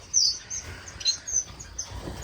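Baby society finches in an indoor bird room chirp in short, high, thin peeps. The calls repeat every half second or so over a soft background hiss, close and moderately loud.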